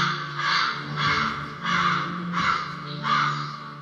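Crows cawing loudly and close by, a series of harsh, rhythmic calls repeating about once a second, heard on their own without talk.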